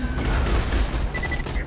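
Sniper rifle fire in the co-op shooter Borderlands 2, loud booming shot noise filling a short burst with dense impacts and rumble, no clear talk over it.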